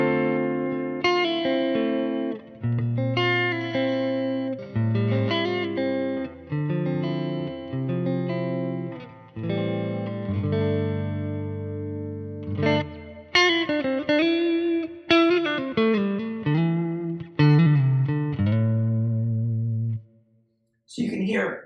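Clean tone from a Schecter MV6 electric guitar on its neck single-coil pickup, run through a Quad Cortex, playing a steady flowing stream of chords and single notes for about twenty seconds, close and even in level, with no voices.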